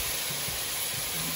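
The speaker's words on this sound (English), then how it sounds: "Steam coming up." Butter and oil sizzle and steam in a pan over medium-high heat, giving a continuous close hiss with small crackling pops and no talk.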